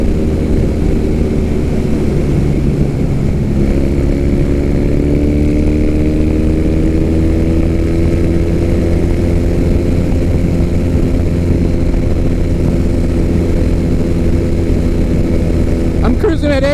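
A Harley Softail, Sportster or Triumph Bonneville motorcycle cruising at about 80 mph, its engine a loud, steady drone with a constant low rumble and wind roar from start to finish.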